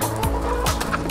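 Farm chickens clucking and squawking as they are fed treats, a quick burst of loud, close calls within about a second, with no talk over them.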